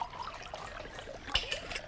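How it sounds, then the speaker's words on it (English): Water and red wine are poured over sausages and olive oil in a cooking dish, a brief soft trickling splash close by, with a few small liquid spatters and no talk. "I've got 100ml of water and about 50ml of red wine"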